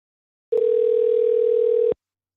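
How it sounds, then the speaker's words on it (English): A steady electronic ringback tone on an outgoing telephone call plays as one unbroken beep of about a second and a half, clear and alone, with silence before and after. "let's listen to the second call where I ring back Jesse, get his voicemail"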